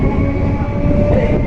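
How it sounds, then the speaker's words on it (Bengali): A train pulls out of Majhergram station with a loud, close, continuous rumble and rattle of wagons that carries steadily from start to finish. "এই মাঝেরগ্রাম স্টেশন থেকে ট্রেন ছাড়লো।"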